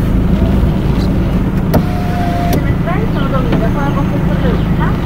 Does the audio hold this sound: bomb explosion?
no